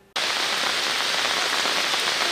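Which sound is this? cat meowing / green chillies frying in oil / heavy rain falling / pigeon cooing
heavy rain falling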